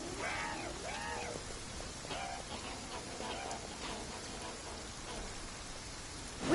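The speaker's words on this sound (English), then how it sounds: "I love listening to the rain from the courtyard" Steady rain patters across a courtyard in the video game Genshin Impact, a soft continuous hiss with a few tonal calls rising over it near the start.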